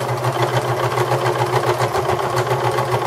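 Sewing machine running a straight stitch across a frayed bath towel, a continuous fast mechanical whir with a rapid even needle rhythm, close and steady without pause.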